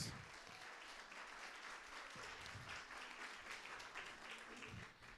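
A church crowd at a missions seminar claps and applauds steadily for several seconds, a dense wash of hand claps without a break.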